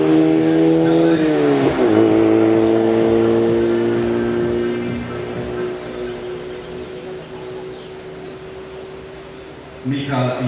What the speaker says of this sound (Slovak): V tejto chvíli úradujúci vicemajster strednej Európy automobilových slalomov Miroslav Baláš na Renault Twingo.